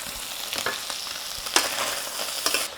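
Shrimp and pickled radish for pad thai fry in a hot wok, a close, continuous sizzle punctuated by scraping stirs and clinks of the spatula.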